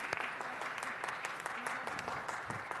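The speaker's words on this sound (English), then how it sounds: "let's give Tyler a round of applause for reminding us to thank the men and women in blue" An audience at a city council meeting claps steadily for a few seconds, with dense, even applause close by.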